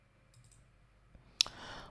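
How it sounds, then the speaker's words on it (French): A single sharp keystroke as the Enter key is pressed on a computer keyboard while logging in to a QNAP NAS web interface, a crisp click alone in a quiet room, followed by faint system hiss. "je me connecte en tapant sur entrée du clavier."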